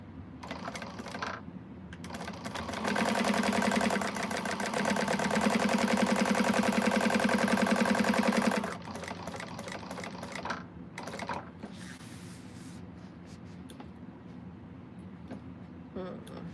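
A sewing machine stitches the seam of a bag in a steady, rapid mechanical whir for several seconds, then stops, leaving scattered handling clicks and quiet room noise.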